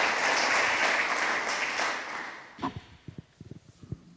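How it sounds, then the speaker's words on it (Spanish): An audience at an anniversary event applauds a speaker with a dense burst of clapping that fades after about two and a half seconds, followed by a few sparse, isolated knocks and thuds close by. "Un aplauso para Santos Bregaña."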